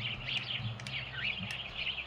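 Continuous bird chirping and tweeting from the Supraland Crash DLC video game, quick repeated high calls over a low steady hum.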